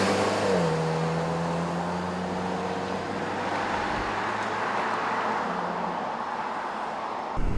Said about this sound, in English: So let's take it for a ride and see how it compares to the others.